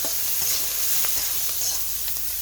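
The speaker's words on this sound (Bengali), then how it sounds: "আমরা একটু ভেজে নিচ্ছি" Salted bata fish frying in a kadai, a loud, continuous close sizzle with faint stirring taps throughout, no talk.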